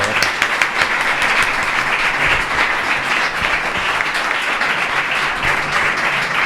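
A studio audience applauds steadily for several seconds, dense clapping filling the room at a constant loud level with no talk over it.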